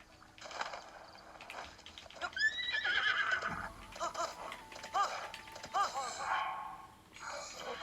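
A horse in The Legend of Zelda: Breath of the Wild whinnies loudly in a drawn-out, wavering call, with softer snorts and shuffling around it and a second neigh near the end.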